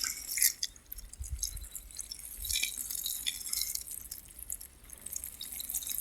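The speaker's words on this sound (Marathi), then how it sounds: "इथून एवढा आता काढलेला आजोला आपण असा पाण्याने थोडंसं धुवून घेणार आहे" Freshly harvested azolla is rinsed with water in a bucket, giving a faint, steady trickle and splash with scattered drips, low and continuous throughout.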